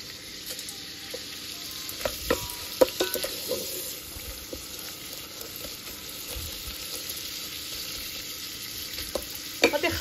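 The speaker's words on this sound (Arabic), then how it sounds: "غادي نخليها تنقلى." Vermicelli frying in an electric pressure cooker pot, a steady bright sizzle that runs throughout, with scattered scrapes and clicks from stirring and no talk.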